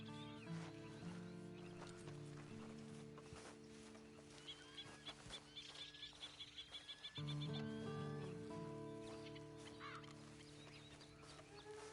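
Horse hooves in Red Dead Redemption 2, a quick run of soft rhythmic clip-clop steps in the middle, faint under steady game ambience with sustained tones and a bird-like cluck.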